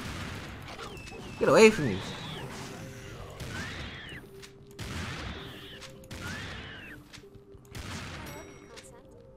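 Repeated gunfire from the video game Serious Sam 2 comes as a series of sharp bursts with whooshing echoes spaced across the scene, with a person talking over the shots.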